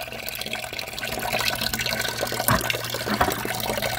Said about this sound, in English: that is a lot of water